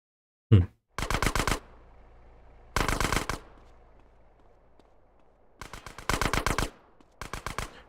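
Automatic gunfire in GTA: San Andreas on PC, rattling off in four sharp bursts of rapid shots with short gaps between, loud and close, preceded by a single heavy thump.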